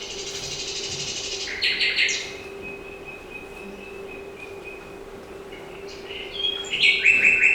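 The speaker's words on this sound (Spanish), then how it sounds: "¿Conocéis cómo canta el ruiseñor?" A played recording of nightingale song: bursts of bright, varied whistled phrases at the start and again near the end, separated by a thinner sustained note over a low steady hum.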